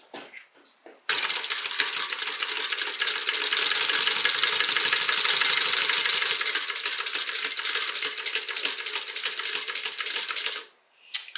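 A sewing machine runs fast and steady, stitching a seam on a handmade fabric bag: a dense, continuous mechanical whir and clatter that starts abruptly, holds for about ten seconds, then stops, with faint handling noises before it.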